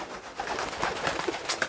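Pigeons coo around old pigeon crees in an urban river valley, soft repeated calls at moderate distance over a broad outdoor wash of wind and ambient noise.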